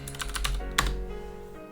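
Keys clatter on a computer keyboard while entering a Linux command, a quick burst of several close taps followed by one firmer keystroke, then a quiet hum.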